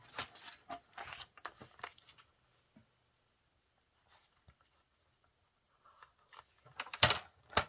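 Scissors cutting through a junk mail envelope, a few quiet snips and paper rustles near the start, then silence, then a louder crisp burst of cutting at the end.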